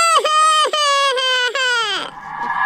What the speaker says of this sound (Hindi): अरे ये तो किसी बच्चे की रोने की आवाज है।